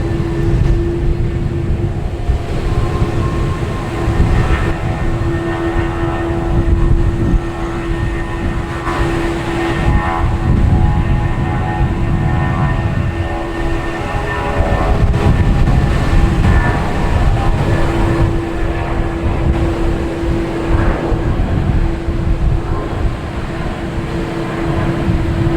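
An airplane takes off at Boston Logan Airport, producing a loud, continuous jet roar with a steady droning hum that holds for about twenty-five seconds, with no voices.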